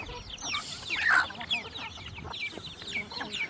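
Chickens cluck in a rural Thai yard beside a wooden house under construction, a steady stream of short clucks and calls with one louder squawk near the start, at close range.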